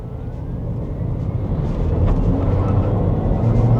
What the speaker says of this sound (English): let's test the acceleration really quick before we do anything else about the power drivetrain